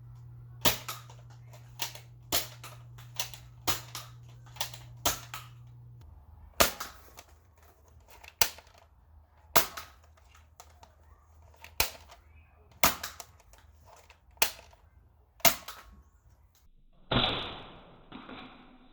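An upgraded Nerf Zombie Strike Crossfire blaster fires darts in a series of sharp, close snapping shots spaced a second or two apart, with mechanical priming noises between them and a final rattling clatter.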